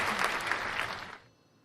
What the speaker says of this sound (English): I'll hit you with another crowd applause since I missed it